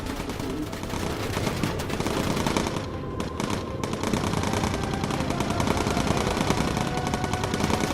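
Bomber machine guns in the video game Bomber Crew, loud continuous rapid-fire bursts of gunfire rattling nonstop with a brief dip partway through.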